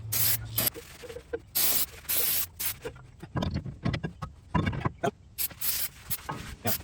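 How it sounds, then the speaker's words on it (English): Brake cleaner sprayed onto the brake parts of a 2001 Ford F350 Super Duty truck, several loud hissing bursts of aerosol up close, split by short pauses and rubbing sounds. "I got a little brake cleaner."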